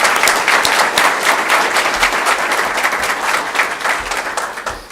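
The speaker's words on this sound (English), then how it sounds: "Let's give her a round of applause." An audience at a school board meeting applauds the 2022-23 Teacher of the Year for Craven County Schools, steady dense clapping that stays loud and close for about five seconds with no talk over it.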